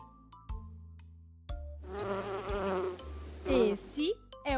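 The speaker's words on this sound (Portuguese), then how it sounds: "Esse é o som da abelha, zumbindo feliz pelo ar." A bee buzzes in a wavering drone that swells and fades for a couple of seconds, set over a light musical backing in a children's animal-sounds song.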